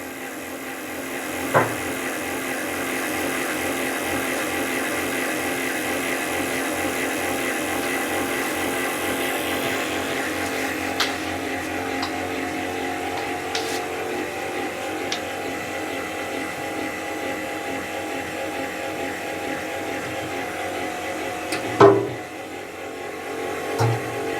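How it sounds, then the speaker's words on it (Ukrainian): A honey extractor at a beekeeper's apiary runs steadily throughout with a continuous whirring mechanical drone and rattle, with one brief sharp knock near the end. "медогонка працює значно текше"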